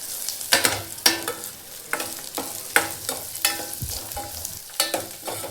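Poppy seeds and fried gram frying in a pan, with a steady soft sizzle broken by repeated sharp scraping strokes of a spoon stirring at a regular rhythm, close by and with no voices.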